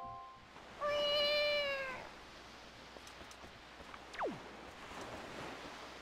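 A cartoonish cat meows in a Zelda video game, a short bright harmonic mew near the start, then a falling whoosh and soft wave-like ambience, with no talking.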